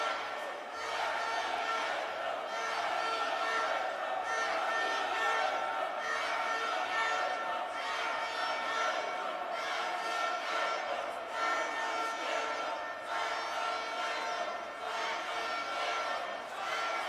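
A crowd at a EuroArm 2017 arm wrestling tournament roars and cheers continuously, a dense, loud wall of voices that swells in waves throughout, with a commentator talking over it.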